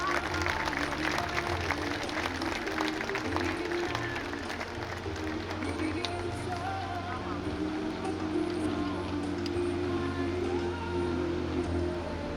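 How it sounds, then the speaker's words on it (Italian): Audience clapping at the Jesolo air show during practice for Paolo Pocobelli's Cap 10 display, a steady dense wash of applause with crowd noise and a steady low engine-like drone underneath, moderately loud throughout. "noi gli facciamo un bel applauso d'ingresso"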